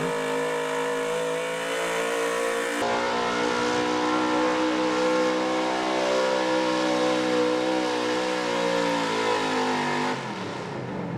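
A powerful pulling truck engine roars at high revs down a truck and tractor pull track for a long stretch, loud and steady with shifting pitch, then drops off abruptly at the end.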